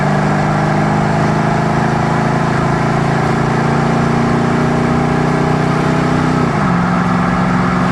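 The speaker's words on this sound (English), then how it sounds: "I'll kind of roll into the throttle a little bit more here so you can hear the motor" A 1976 Pontiac Firebird Formula's 350 V8 runs steadily with a throaty exhaust drone, its pitch holding then dropping slightly toward the end as the throttle eases.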